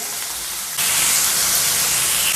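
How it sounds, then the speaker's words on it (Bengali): Onions frying in a pan in a home kitchen give a steady, loud hiss that jumps up sharply partway through and then holds as a dense sizzle. "পেঁয়াজ ভেজে নিচ্ছি"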